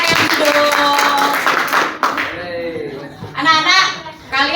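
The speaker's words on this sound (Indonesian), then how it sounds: "Terima kasih, tepuk tangan. Ayo tepuk tangan teman-teman." Students in a classroom clap together in a brief burst of applause, mixed with children's voices and chatter, before the room quiets to scattered talk near the end.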